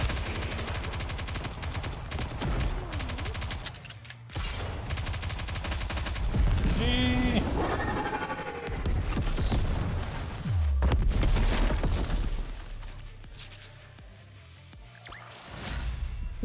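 Gunfire in the video game Nikke: Goddess of Victory, rapid machine-gun bursts and booming shots layered with game effects and music, loud and continuous with a short quieter stretch near the end.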